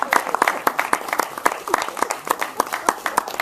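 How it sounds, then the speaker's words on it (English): An audience at a youth speaking event claps for the evening's main speaker, with sharp, scattered hand claps that stay fairly sparse and mid-distance. "can you please give my main speaker of the evening a massive round of applause"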